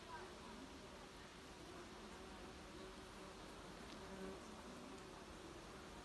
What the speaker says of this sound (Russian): Тут куст. Два шмеля.